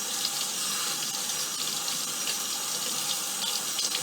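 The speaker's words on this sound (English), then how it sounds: "So let's just rinse this brush." Tap water runs steadily into a sink while a paintbrush is rinsed clean of paint, a constant close hiss and splash with no break and no voices.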